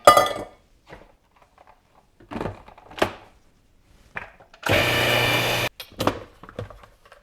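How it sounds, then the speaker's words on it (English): Food processor blending sweetened condensed coconut milk, a single loud whirring burst of about a second, framed by scattered clinks and kitchen handling noises in an otherwise quiet room. "So we're going to put it in the food processor and mix it up that way."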